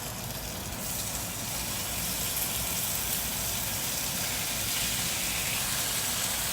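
Cheesesteak hoagie toppings sizzle steadily in a hot pan, a continuous broadband hiss and crackle that stays close and fairly loud throughout, with no talking.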